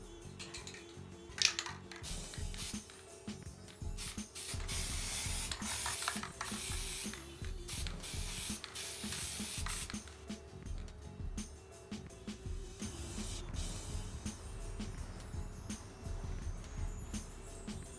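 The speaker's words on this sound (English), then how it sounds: "I'm gonna spray some on this side too," Hissing spray from a can is applied to the side of a thrift-store chair being covered in fur, in steady bursts with short breaks, close and fairly quiet, alongside faint handling rustles.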